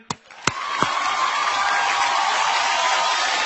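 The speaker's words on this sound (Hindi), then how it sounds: "जोरदार तालियां।" An audience applauds at the Reno Star Guild film awards show at Prime Focus studio in Mumbai. A few sharp early claps swell into steady, sustained clapping and crowd noise.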